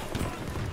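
Horse hooves galloping in a video game, a quick run of clip-clop hoofbeats lasting under a second, fairly loud against game noise.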